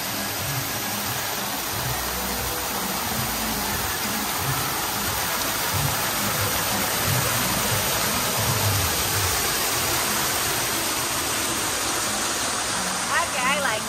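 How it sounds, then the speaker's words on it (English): A resort waterfall at Harrah's Southern California heard from behind the falling sheet, a dense, loud, unbroken roar of rushing, splashing water that fills the whole span. "I'm gonna walk under the waterfall. I'm there behind the waterfall, so I can see the backside of water."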